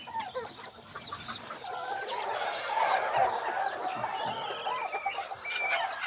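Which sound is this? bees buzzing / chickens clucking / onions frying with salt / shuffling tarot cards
chickens clucking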